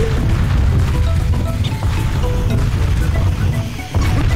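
Cannon blasts in Donkey Kong Country Returns, a dense, loud stretch of booming game audio with repeated low thuds and bursts, continuous throughout with a brief dip near the end.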